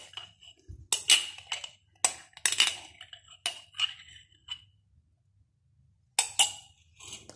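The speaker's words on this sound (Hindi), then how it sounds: "अब हम इसको अच्छे से मिक्स करेंगे।" Aloe vera gel being stirred into a homemade hand sanitizer mixture, giving irregular bursts of close clinks and taps of a utensil against a container, with short silent pauses between strokes.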